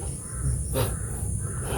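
A single harsh crow caw rings out briefly over a steady background hiss and low hum.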